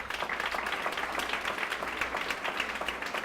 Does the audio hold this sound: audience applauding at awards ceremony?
yes